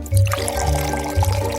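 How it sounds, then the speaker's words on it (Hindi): Prepared sugar solution poured into a pot of sugar syrup in a home kitchen, a steady close liquid pour and splash running throughout with a low drone behind it. "तैयार घोल को सिरप में डालें।"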